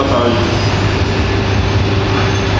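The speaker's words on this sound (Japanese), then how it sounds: "20番線新幹線が発車です。" A Shinkansen bullet train departs the JR East platform at Tokyo Station, a loud steady low rumble and hum filling the short stretch without break, with faint station sounds underneath.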